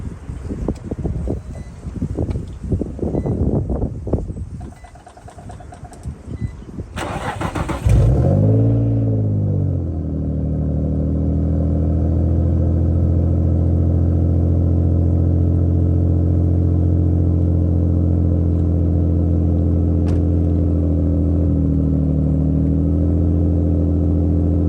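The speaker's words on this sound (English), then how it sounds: "This thing does have an aftermarket exhaust." A car fitted with an aftermarket exhaust, first heard moving with rushing noise, then settling into a loud, steady droning rev with a deep, sustained tone that holds for many seconds, no talking.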